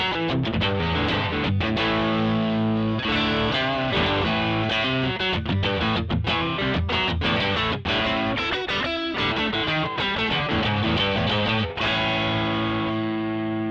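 An electric guitar plays continuously through an RPM Pedals Strips Last Lie 7-in-1 multi-effect set to overdrive, with dense, saturated chords and riffs at steady high volume and no speech.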